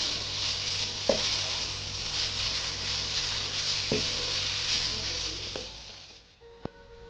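Chicken frying in a pan for Hakka noodles, a soft continuous sizzle with a few light utensil clicks, fading toward the end before a final sharp tap.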